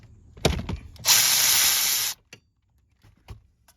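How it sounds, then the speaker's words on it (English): A T30 socket driven off three screws on a Hyundai steering column motor: a short mechanical clatter, then a loud steady hiss-like whir of about a second, followed by a few faint clicks, close and alone. "you use a T30 socket like this to take this off"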